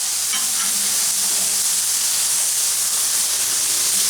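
Burger patties sizzle steadily on a hot griddle for an In-N-Out style double-double and cheeseburgers, a dense continuous frying hiss with a couple of soft scrape-and-flip knocks near the start.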